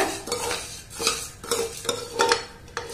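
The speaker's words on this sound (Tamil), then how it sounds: "இதை ஒரு 2 நிமிஷம் நம்ம நல்லா வறுத்து கொடுக்க போறோம்." Vermicelli for semiya payasam is roasted in a pan while being stirred, heard as about six rhythmic scraping strokes over a soft sizzle, close by and without speech.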